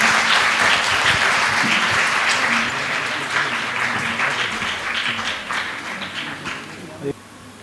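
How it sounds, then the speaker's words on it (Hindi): Audience at a school naat competition gives a loud, dense burst of clapping that holds strong, then gradually thins and tapers off, ending with a few scattered claps. "जोरदार तालियां होनी चाहिए।"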